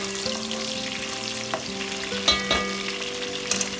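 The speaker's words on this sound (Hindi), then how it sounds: "प्याज को हमने करना है ब्राउन।" Sliced onions frying in hot oil for pulao, a quiet, steady sizzle with faint crackles and a few small clinks, heard alone without any talking.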